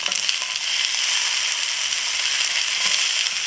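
Garlic and onion fry gently on low heat in a pan for a chunky veggie stir fry, giving a soft, steady hiss of sizzling with faint crackles throughout and no voices.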